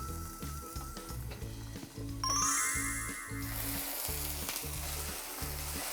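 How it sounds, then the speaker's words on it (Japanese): A whole head of lettuce sears in a frying pan over medium heat, giving a steady, close hiss and sizzle with a rhythmic low clatter underneath and a brief ringing tone partway through. "中の方まであったかくしたいので、ここで中火で5分焼いていきます"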